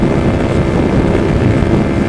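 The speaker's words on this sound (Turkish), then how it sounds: "Acayip bir rüzgar var şu anda." Loud, constant low roar of strong wind buffeting the microphone during a motorcycle ride, dense and unbroken throughout, with no voices.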